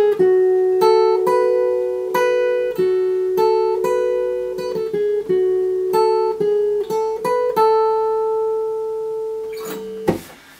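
Guitar playing a melodic riff, a steady run of plucked notes over a held ringing tone, loud and close for about ten seconds before ending with a brief strum.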